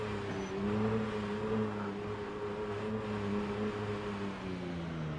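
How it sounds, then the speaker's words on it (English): Car engine in a zombie survival video game held at constant revs, a steady droning hum with slowly wavering pitch, loud and continuous with no talk. "I'm basically just like constantly revving my engine"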